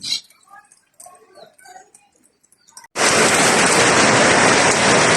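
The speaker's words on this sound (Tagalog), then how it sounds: "di talaga um, tumigil ang ulan hanggang maghapon" Quiet scattered chirps and small sounds give way abruptly to a loud, dense roar of heavy rain that continues unbroken.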